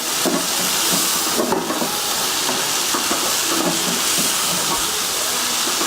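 Green onion sautéing in a pan for aloo pyaaz, a steady loud hiss and sizzle with irregular stirring clatter throughout, a faint voice underneath at moments.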